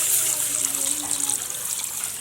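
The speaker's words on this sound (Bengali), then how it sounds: "এর মধ্যে দিয়ে দেবো জল।" Water poured into a pot set on the stove to heat, a steady bright splashing stream running close and fairly loud for a couple of seconds.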